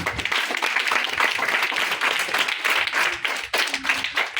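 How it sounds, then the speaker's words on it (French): At a school kit handover ceremony, the gathered audience claps in a fairly close, lively burst of many hands that thins slightly near the end, with brief murmurs underneath. "je vous prie d'applaudir s'il vous plaît"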